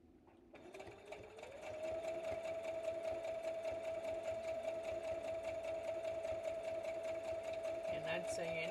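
A sewing machine spins up and stitches a quilt in a steady rapid mechanical whir with a constant hum, running continuously at close range before a faint click near the end.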